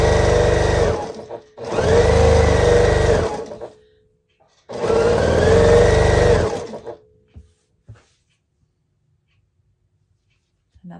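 A sewing machine stitches fabric scraps for an oversized flying geese quilt block, running in two steady bursts of about two seconds each with a short pause between, followed by a few small clicks and then quiet.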